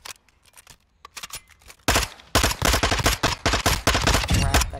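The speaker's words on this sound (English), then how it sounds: "Let me try this gun out." Gunfire in the video game Warzone 2: a few sparse shots, then loud rapid automatic bursts in quick succession, close and dominant.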